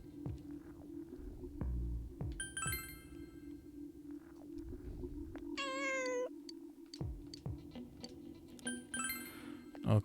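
A single short, high-pitched cat meow from the video game Persona 4 Golden sounds midway, over a steady low in-game hum and scattered chime-like tones.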